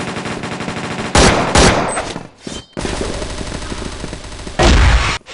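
Rapid gunfire from the video game Counter-Strike, with loud bursts of automatic shots in several clusters and brief gaps between them, close and dominant with no talking.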